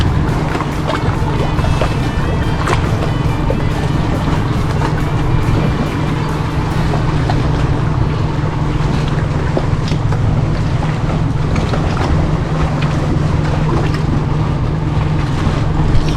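A boat engine drones steadily and loudly throughout on a northeast Florida spring run, with wind buffeting the microphone and water noise underneath, no speech.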